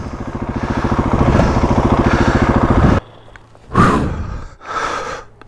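An off-road motorcycle revs hard for about three seconds on a steep hill lane in East Sussex, a loud, close, pulsing engine roar that cuts off abruptly, followed by a couple of breathy bursts.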